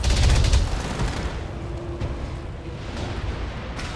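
Heavy weapons fire in the BattleTech video game blowing up a turret generator: a loud booming burst up front that settles into a rumbling explosion and crackling debris, with no talking.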